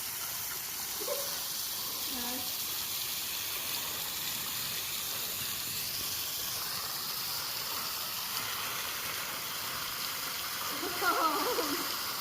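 A small natural waterfall splashes steadily in a wooded stream, a continuous close hiss of falling water, with brief voices heard faintly over it.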